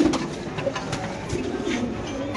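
Pigeons coo softly at a crowded pigeon market where a black magpie pigeon is on show. The low, repeated coos sit under a busy background hubbub.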